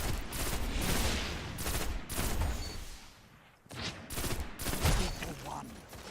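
Legendary Final Duty pulse rifle firing in Destiny: The Taken King, loud, close bursts of rapid shots in several volleys with short gaps between them.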